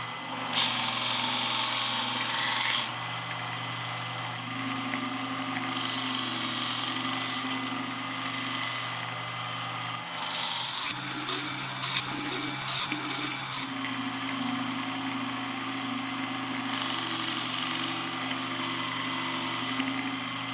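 A serrated knife is drawn through a Work Sharp Combo electric knife sharpener. The motor gives a steady hum with loud grinding bursts, plus a run of rapid short rasps in the middle, and no one speaks.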